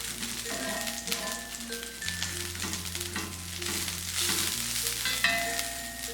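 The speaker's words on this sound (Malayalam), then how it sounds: "ഈ ഓയിൽ എല്ലായിടവും വരത്തക്കവണ്ണം ഒന്ന് ബ്രഷ് ചെയ്ത് കൊടുക്കാം" Olive oil sizzles and crackles steadily as it is brushed across a hot cast iron grill pan on a gas stovetop, a continuous frying hiss with no talk.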